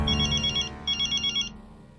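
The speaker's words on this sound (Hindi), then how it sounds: "जेठालाल आज लैंडलाइन से कैसे फोन कर रहा है?" Landline telephone ringing in two trilling electronic bursts with a short gap between them, clear and fairly close, over a quiet room with a low background hum.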